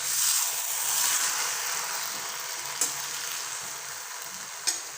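Chilli chapathi (kothu chapathi) stirred and fried in a kadai, an even close sizzle with a couple of sharp spatula clinks against the metal.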